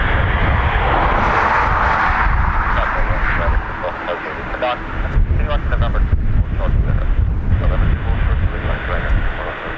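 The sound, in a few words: airplane at Dublin Airport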